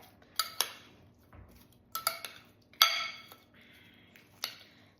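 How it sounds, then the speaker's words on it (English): A spoon stirs a tomato, onion and ginger mixture in a bowl, giving several sharp, close clinks and taps of metal on the bowl in an uneven rhythm, with no talking. "Let me just give that a quick stir just to mix it up."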